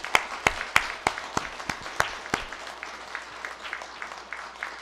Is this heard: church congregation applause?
yes